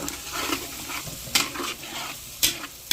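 Food sizzles steadily in a pan while a utensil scrapes and stirs, with a few sharper scraping strokes standing out.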